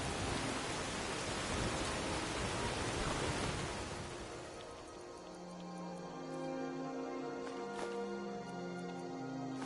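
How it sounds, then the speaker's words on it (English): Rain in Skyrim Special Edition drumming on a house roof, a dense steady hiss that fills the first few seconds, then thins and fades under quiet musical tones. "I like the fact you can hear the rain when you're in the house."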